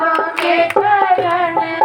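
Rhythmic hand clapping keeps time with loud devotional singing during a Hindi bhajan kirtan to Maiya Ji, sharp claps repeating at a regular beat.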